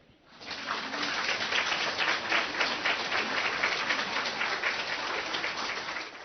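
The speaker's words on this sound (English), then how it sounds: "I talk so much and now you clap?" An audience at a spiritual talk breaks into late applause, a dense, even crowd clapping that swells in quickly and holds steady at moderate distance, with no voices over it.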